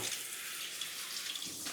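Running tap water rinses chopped goat meat in a strainer for okro soup, a steady continuous splash and hiss close by with no talk.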